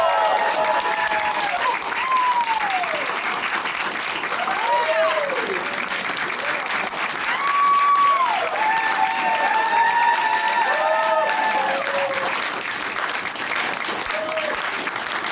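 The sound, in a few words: audience applauding and cheering for a band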